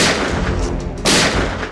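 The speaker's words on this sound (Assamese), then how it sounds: "অসমৰ আকাশত এতিয়া আৰক্ষীৰ গুলীৰ গৰ্জন" Sharp gunfire cracks and booms from a police encounter in Assam, loud and close, with a burst of shots and a second strong blast about a second in, no voices over it.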